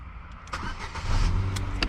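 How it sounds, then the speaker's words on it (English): A Ford Fiesta engine turns over and catches, settling into a low, steady rumble that stays fairly quiet, with a brief higher whir near the start. "Let's listen to the engine, or the turning on."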